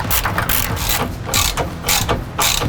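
A ratchet clicks in repeated rhythmic bursts while removing 15 mm bolts from a skid plate on a 2011-16 Ford Powerstroke 6.7L crew cab, each bout a close, loud rapid pawl rattle separated by short pauses.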